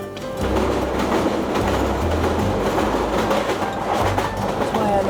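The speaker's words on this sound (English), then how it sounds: "the clack of the rails going along" Train wheels clack steadily over the rails beneath a loud, continuous rolling rumble, with rhythmic beats recurring close by throughout.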